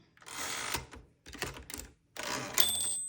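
A 1962 Smith-Corona manual typewriter clearing its tab stops, three close bursts of rattling carriage and mechanism clatter separated by short pauses, the last ending with a small bright ring, no talking.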